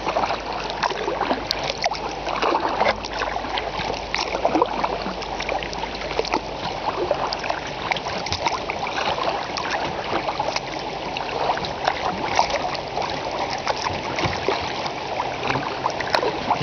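A kayak paddles through weedy water near rapids, with rushing, bubbling water and irregular splashes and knocks of the hull and paddle, close and steady throughout.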